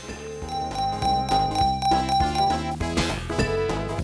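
Bright chiming bells ring over dense, rhythmic game music in the pinball-style stage of Sonic the Hedgehog 2, with repeated tinkling hits and flipper-like bursts throughout.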